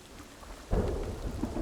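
Thunderstorm with rain in a video game, steady rainfall suddenly joined by a deep, loud rolling thunder rumble that continues to the end.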